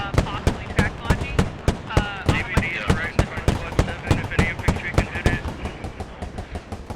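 A LAV-25 autocannon firing in the game Squad, a rapid regular string of sharp, loud, close bangs at roughly three per second, with voices talking underneath.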